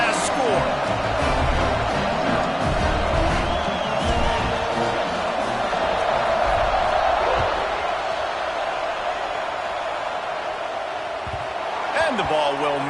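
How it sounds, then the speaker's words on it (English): A football stadium crowd buzzes after a score, a dense continuous roar of many voices with scattered whoops, heard under close play-by-play commentary throughout. "this crowd is buzzing after that last score."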